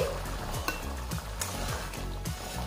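Tomato sour dish (tomator tok) simmering in a pot, giving a steady soft bubbling and sizzling with faint stirring ticks throughout, close and low in level, with no talk.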